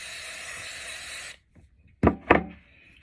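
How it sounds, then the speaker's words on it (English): Hairspray from an aerosol can spritzed onto the sides of styled hair: a steady broadband hiss lasting over a second, then a quiet gap and two short sharp bursts, close and clear. "And we're going to spray the sides first."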